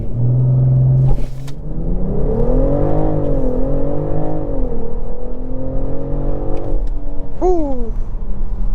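A 2024 BMW X6 xDrive40i launches hard under launch control, its engine droning in a steady rising rumble with harmonic whine that climbs and dips through gear changes, loud and close, ending with a brief voice exclamation.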